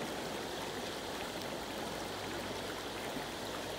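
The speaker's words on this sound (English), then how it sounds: "I'm here at the creek, just letting that water run on my feet" A creek flows in a dense, constant rush of moving water, loud and close, unbroken for the whole stretch and with no voices.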